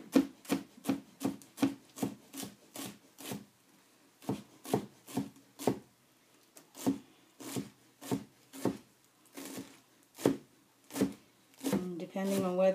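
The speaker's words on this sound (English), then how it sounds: "I'm just going to bundle this up and give it a chop" A knife chops through a bundled handful of fresh cilantro on a board in a quick, steady series of close, crisp thuds, pausing briefly before another run of chops.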